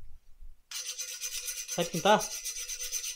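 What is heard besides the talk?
sanding a homemade triangle gym pull handle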